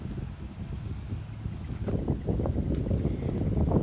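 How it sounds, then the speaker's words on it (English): Wind gusting outdoors at a youth baseball game, a low rumbling rush buffeting the microphone steadily throughout, with no voices heard. "Wind is blowing today."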